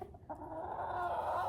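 A Partridge Rock rooster gives soft, low clucking calls, brief and close, against faint background noise.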